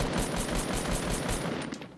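Rapid automatic gunfire from the video game Fortnite rattles in dense, evenly spaced bursts, loud and continuous for about two seconds.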